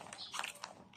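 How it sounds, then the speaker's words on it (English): Keto cookies being bitten into, a quick close crunchy bite with a couple of crisp crackles, heard on its own. "Tikman natin ang kanilang cookies."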